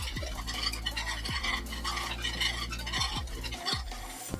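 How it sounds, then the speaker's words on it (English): A whisk stirs flour into melted butter for a roux, a continuous scraping swirl against the pan with a gentle sizzle underneath and a few soft clinks. "I'm going to whisk in my 2 tablespoons of flour."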